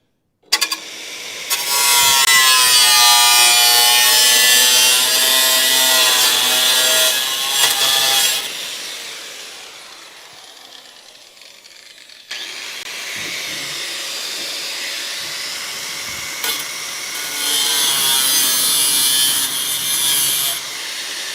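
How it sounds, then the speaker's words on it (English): A large grinding wheel cuts rust on a Dodge crew cab truck: a loud, harsh abrasive roar runs for several seconds, drops to a quieter lull, then roars again steadily to the end. "Where's the big boy grinding wheel?"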